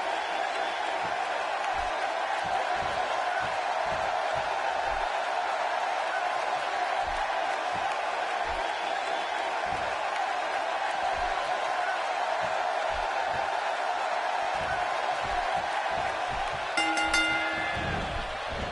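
A raucous wrestling arena crowd at a Money in the Bank event roars and cheers in a constant distant wash, with a brief sharper burst near the end.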